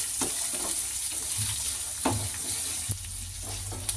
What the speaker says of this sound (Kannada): ಈಗ ಇದನ್ನೆಲ್ಲ ಚೆನ್ನಾಗಿ ಫ್ರೈ ಮಾಡ್ಕೊಳ್ಳೋಣ